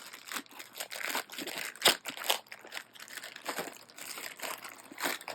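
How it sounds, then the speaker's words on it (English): Resealable plastic sleeve from a diamond painting kit being handled and opened, a run of close, uneven crinkling and crackling rustles with sharper crisp bursts and brief tearing-like peels, no voices over it. "So our diamond painting always comes in this plastic sleeve that is resealable"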